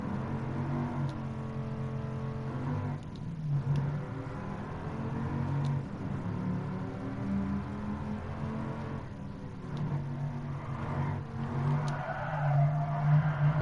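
A car drifts in the Gran Turismo Sport racing game driven on a gamepad: loud sustained tire squeal over a droning engine, swelling and easing through several slides with no talk.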